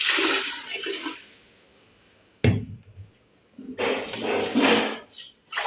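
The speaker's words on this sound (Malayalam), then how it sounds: "തേങ്ങാപ്പാലിൻ്റെ രണ്ടാം പാലാണ് ഇത് ഒഴിച്ചത്" Two bursts of thin second-press coconut milk splashing into a pot, separated by a quiet pause and a sudden thud.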